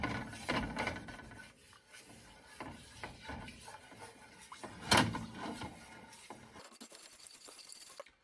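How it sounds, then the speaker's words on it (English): A whisk scrapes and taps irregularly through a roux in a pan, with rubbing strokes and scattered clinks against the metal. It is close and moderately quiet, with one sharper knock partway through. "We're gonna whisk it in until it's completely dissolved."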